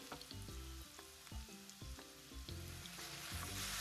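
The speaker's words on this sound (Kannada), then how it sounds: "ಇವಾಗ ಇಷ್ಟು ಈರುಳ್ಳಿ ಫ್ರೈ ಆದ್ರೆ ಸಾಕು" Onions frying in a pan for chilli chicken, a steady close sizzle running the whole time with repeated stirring scrapes and clinks, no voices.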